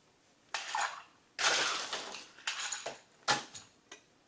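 Ice cubes dropped into a metal cocktail tin in several separate clattering bursts, close and fairly loud, with short pauses between scoops.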